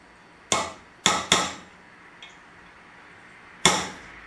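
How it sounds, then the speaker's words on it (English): Four sharp metallic taps ring out as a center punch is struck into metal, three close together and one after a pause, each with a brief ringing decay in a quiet room. "When you punch them first with a punch, puts a dent in the metal"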